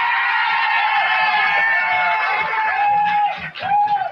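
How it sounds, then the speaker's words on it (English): Variety-show audience cheering and applauding dance contest contestants, a loud sustained wash of whoops, shouts and screams with a brief dip and a second burst of cheering near the end. "be fair and applaud for the folks that you think were the best dancers"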